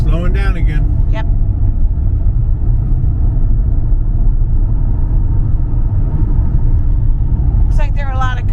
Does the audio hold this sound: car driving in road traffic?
yes